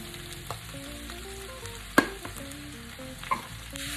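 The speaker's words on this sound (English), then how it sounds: "The sound of the frying was a lot, so I turned it down a little bit." Sliced zucchini frying and sizzling in a pan, a steady low sizzle with a sharp clink near the middle and another soft knock later, with no talking.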